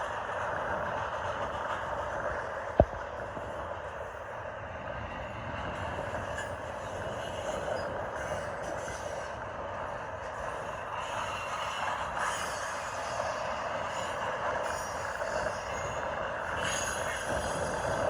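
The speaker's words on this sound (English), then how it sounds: "think I see the end of the train coming" A Union Pacific intermodal container freight train rolls steadily through downtown in strong wind, a continuous broad rumble and rushing noise holding for the whole stretch with one brief sharp click early on.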